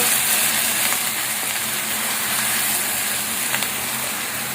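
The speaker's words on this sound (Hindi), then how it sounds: "चिकन इसमें चला गया है। इसे हम थोड़ी देर भूनेंगे चिकन को।" Chicken pieces frying in oil in a karahi for a creamy white karahi, giving a steady, close hiss and crackle that stays even throughout with no talking.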